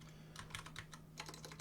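Soft, fast typing on a computer keyboard, short bursts of quiet clicking keystrokes over a faint steady hum.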